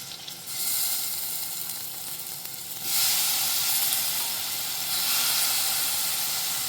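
Dried Bombay duck fish and potatoes fry in an oiled pan, a steady close hiss and sizzle that grows louder around the third second and again near the fifth, continuous with no talking.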